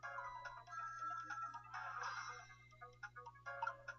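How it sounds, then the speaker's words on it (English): An electronic phone ringtone chirps in the video game Ghost Trick: Phantom Detective, a repeating pattern of bright synthetic tones over a constant low background hum. "The phone is ringing."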